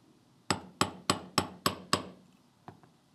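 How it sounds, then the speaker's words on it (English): Six steady, close hammer taps on a thin wire earring against a metal block, crisp and ringing, then two lighter taps after a pause. "I like to hammer both sides."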